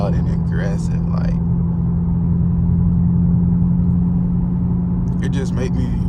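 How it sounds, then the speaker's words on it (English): Catless Camaro SS engine and exhaust drones with a deep, loud steady rumble from inside the car while cruising, with someone talking briefly at the start and end. "Pretty much just listen to the car."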